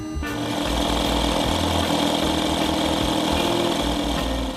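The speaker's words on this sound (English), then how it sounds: "once the compressor kicks in, it will sound something like this." A loud, harsh motorized drone of an Aquaglide 12V 20 PSI electric SUP pump's compressor running steadily, rougher and buzzier than a plain hum, continuous throughout with no voices.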